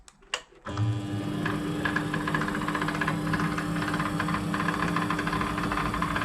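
A small mini lathe whirs up after a couple of clicks and keeps running with a steady mechanical hum and faint rhythmic rattling, close and fairly loud, with no one talking.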